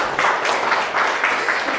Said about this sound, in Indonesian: Oke, sebelumnya kita tepuk tangan dulu untuk semuanya.